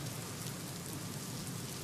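Heavy overnight rain pours steadily over Mumbai, a dense, even hiss of rainfall beating on surfaces with no voices or breaks.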